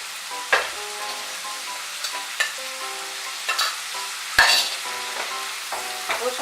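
Garlic paste frying over raised heat in a pan for a Bengali beans dish, a steady close sizzle punctuated by sharp scraping stirs and spatula knocks at irregular intervals.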